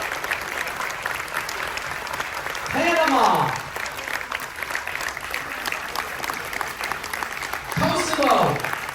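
Audience applause for military veterans at a shipboard appreciation event, sustained and crowd-wide, with a voice calling out over it and swelling in two louder bursts.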